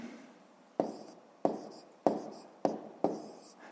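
Pen writing numbers in a school notebook, five short sharp scratching strokes spaced about half a second apart, close and quiet with no talk.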